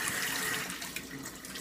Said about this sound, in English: just massage the rice a little bit, rinse. Wash it again and rinse it again.